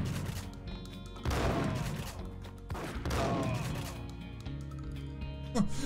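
Gunshots in the Max Payne game ring out in a couple of loud, crashing bursts with echoing tails, while someone talks over and between them.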